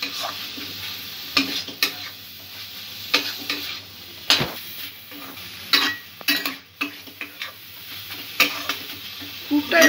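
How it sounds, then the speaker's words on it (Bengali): A spoon stirs a sticky sweet filling in a pan with repeated scraping strokes, with faint sizzling underneath and sharp clicks of the utensil against the pan at irregular intervals. Nobody talks. "আমি 3-4 মিনিট এইভাবে ক্রমাগত নাড়াচাড়া করে গেছি।"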